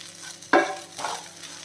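Poha with salt is stirred and spread in a frying pan over low flame, giving one sharp scraping stroke, a softer second pass and a faint sizzle underneath, close and clear with no talk.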